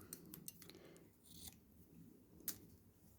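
Scissors snip through sari silk fabric in a few close, quiet cuts with soft crisp blade closures, one sharper snip standing out near the end, over a faint room hum.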